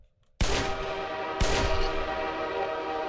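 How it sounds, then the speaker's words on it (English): Two loud, abrupt blasts of a train horn from the Minecraft HBM Nuclear Tech mod sound close by, the second following about a second after the first, each ringing out afterward. "it has a little train horn to it, isn't that something?"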